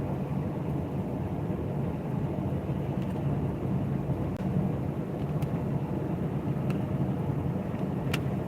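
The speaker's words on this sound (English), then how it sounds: "It's a rainy day." Steady rain hisses with a low thunder rumble on a rainy day in Southern California, a continuous dense wash with no talk over it.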